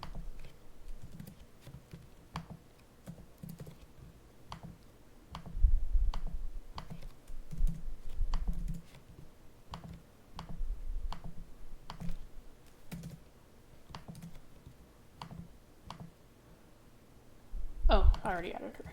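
Names are typed on a computer keyboard while Microsoft Teams is being set up for faculty, producing soft, quick key clicks in uneven bursts under continuous talking.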